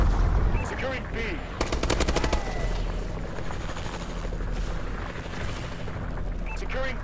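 A Warbird Vulcan gunship opens fire in Call of Duty: Advanced Warfare, a loud rapid burst of cannon fire over a constant rotor-like drone and battlefield noise, with a radio voice talking at the start and end.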